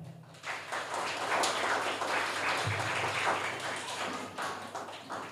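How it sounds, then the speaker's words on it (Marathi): An audience claps at a one-man stage performance commemorating Sant Gadge Baba: a dense, continuous wash of many hands that holds steady and fades slightly near the end. "पुन्हा एकदा जोरदार टाळ्या"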